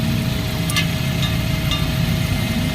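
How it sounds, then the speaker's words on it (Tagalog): A Toyota Corolla 2E engine with a misfire idles roughly and shakes, a steady low rumble with a faint whine running throughout, close and alone. "diba maalog maalog yung makina natin"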